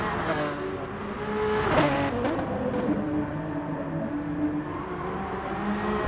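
A Pagani Zonda sports car drives fast during a race, its engine roaring steadily with rising revs and tonal whine, loud and continuous throughout.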